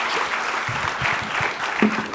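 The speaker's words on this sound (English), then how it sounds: "please give these wonderful young leaders of India a round of applause" A crowd claps steadily in a dense patter of applause, moderately loud, with a brief voice briefly heard underneath.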